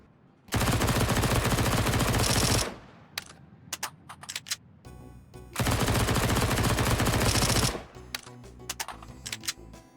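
Counter-Strike 2 MP9 submachine gun fired in two loud, sustained full-auto bursts of about two seconds each, separated by scattered single clicks and shots, with no talking.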